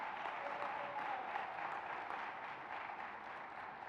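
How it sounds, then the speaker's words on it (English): A university fellowship competition audience claps in soft, distant, even applause, a continuous patter of many hands that fades slightly toward the end. "How about a round of applause for Tim reading all the names?"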